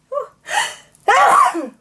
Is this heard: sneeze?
yes